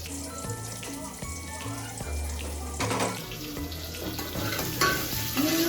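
Onions for vegetable pulao fry in a pan, a steady moderate sizzle and hiss with occasional stirring clatter, growing a little louder toward the end.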